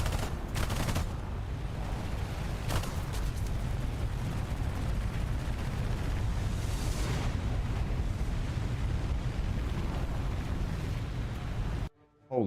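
Sustained tank cannon and machine-gun fire in War Thunder, a dense continuous roar of blasts and rumble with a few sharper reports, ending in a sudden cutoff.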